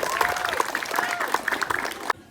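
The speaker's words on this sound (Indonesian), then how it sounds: "Tepuk tangan untuk pemuda Pekijing dan pemudi." Applause from a crowd at a youth gathering in Pekijing rises under a loud voice speaking over it, ending abruptly.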